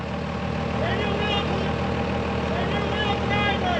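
A large vehicle's engine idles with a steady low rumble while it slowly backs up, with people shouting directions loudly over it throughout.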